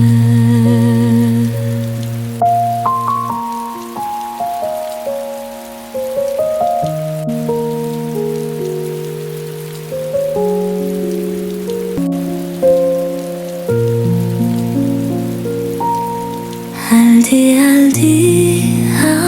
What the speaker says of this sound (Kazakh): жаңбыр жауып тұр сыртта